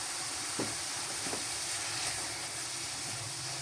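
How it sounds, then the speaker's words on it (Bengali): Carrots frying with salt and turmeric in a pan over full gas heat: a continuous, even hiss and sizzle, steady and moderately quiet, with no talking. "এটাকে একটু ভেজে নেব।"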